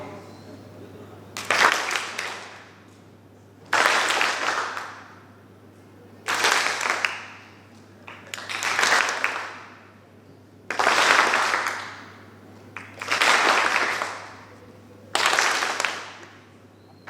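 Group of audience members clapping together during an exercise at a talk, seven separate bursts of clapping, each a second or so long, separated by pauses with quiet talk and a low steady hum underneath.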